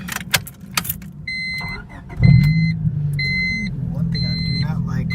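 A car engine cranks and catches, then settles into a steady idle after a swapped instrument cluster, with dashboard chimes beeping in a repeating pattern and someone talking over the start.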